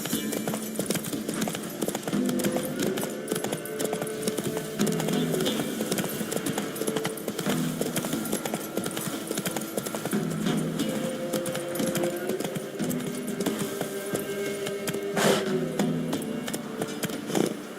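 Horse hooves clip-clop at a steady trotting rhythm in The Witcher 3 video game, close and continuous over a low ambient background for the whole stretch, with no talking.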